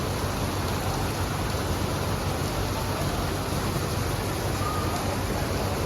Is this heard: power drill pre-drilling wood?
no